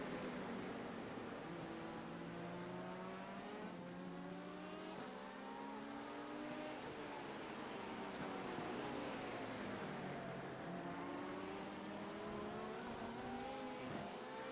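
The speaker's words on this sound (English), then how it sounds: "Closing in on the GT3 car." An LMP2 race car in the iRacing video game, at an IMSA race, drones with a continuous high-revving engine whose pitch climbs and drops through gear changes while closing on a GT3 car, loud and steady throughout.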